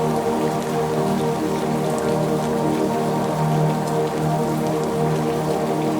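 Steady rain falls on a surface in a dense, even patter that goes on without a break, close and moderately loud, with no voices.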